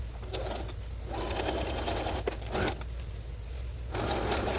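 A sewing machine top stitches through the layers of a homemade Boo costume from Monsters, Inc., running in close, steady whirring bursts with brief pauses between runs.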